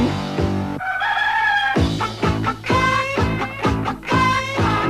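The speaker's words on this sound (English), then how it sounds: "A crazy chicken chasing me all over town." A backyard chicken in winter clucks and crows loudly in quick, repeated bursts, its calls strung together in an almost rhythmic run with no talking over them.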